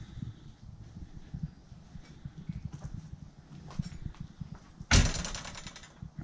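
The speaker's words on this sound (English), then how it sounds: "How eerie, door blowing in the wind." A door blows in the wind at an abandoned cottage, giving one loud bang amid a steady background of gusting wind and scattered knocks and creaks.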